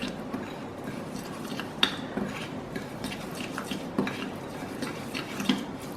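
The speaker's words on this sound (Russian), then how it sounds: "Перемешиваю." A thick marinade of mirin and wine stirred in a bowl, with soft continuous scraping and occasional small clinks of the utensil against the rim.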